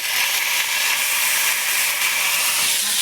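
Water poured into a hot pan of fried vegetables and ginger bursts into a loud, steady steaming hiss that continues unbroken throughout.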